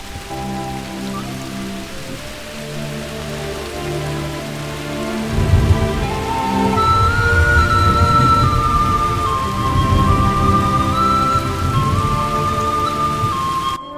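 Rain falls steadily on a surface outdoors during monsoon season, a soft continuous patter that swells louder partway through, with gentle melodic music playing alongside.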